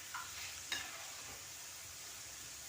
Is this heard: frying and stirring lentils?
yes